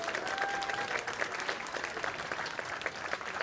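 A festival crowd at the Munich Irish Nights opening in 2022 gives sustained, dense applause, many hands clapping at once in a steady roar with a faint tone lingering early on.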